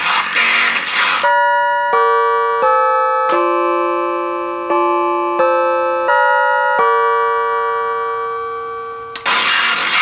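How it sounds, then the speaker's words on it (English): A doorbell chime sounds through an M&S Systems MC170 radio intercom, a loud, clear sequence of sustained electronic tones stepping through a melody, with bursts of static noise at the start and end. "let's ring the Chime"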